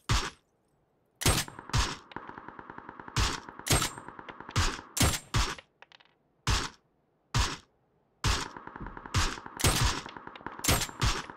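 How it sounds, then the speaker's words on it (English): Suppressed gunshots in the PUBG video game crack out in sharp bursts and short volleys, some single and some rapid, separated by brief silences. "Two suppress shots on my left."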